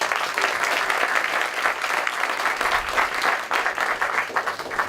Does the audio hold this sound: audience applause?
yes